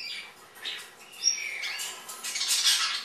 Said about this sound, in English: They're beautiful little birds, and they make really cool noises.